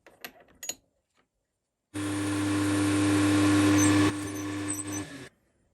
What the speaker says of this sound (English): drill our 6mm hole in this.